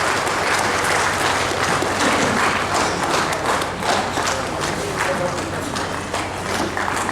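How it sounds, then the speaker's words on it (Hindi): A crowd at a police officers' training graduation ceremony claps loudly and steadily, a thick continuous wash of applause lasting throughout. "तालियों के साथ आमंत्रित करेंगे।"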